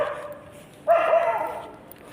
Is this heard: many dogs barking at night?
yes